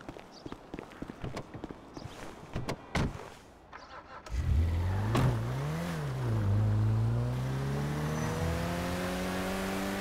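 A car in GTA 5 starts up and drives off, engine revving and rising and falling in pitch as it accelerates, preceded by clattering footstep-like knocks and bumps.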